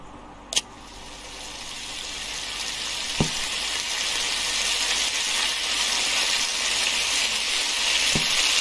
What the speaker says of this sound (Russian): И это все дело креветки 50 секунд прожарить.